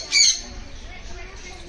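A yellow sun conure parrot in an aviary at Sayaji Baug lets out one short, shrill squawk near the start, followed by quieter background ambience.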